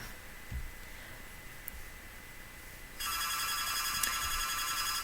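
Telephone ringing in the background of a room, a steady electronic ring starting partway through and continuing loudly, over a faint constant hum.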